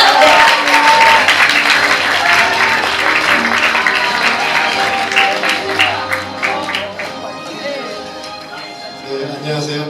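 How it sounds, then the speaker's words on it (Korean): Sustained audience applause at a social innovation platform results-sharing event in Gwangju, welcoming an executive committee chair to the stage; dense clapping from a crowd, loud and steady, thinning slightly toward the end. "이민철 집행위원장님 뜨거운 박수로 환영해 주시기 바랍니다."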